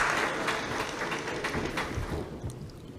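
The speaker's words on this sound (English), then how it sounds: "A round of applause for them," An audience at a conference applauds; a steady, moderately faint wash of many hands clapping, fading slightly toward the end.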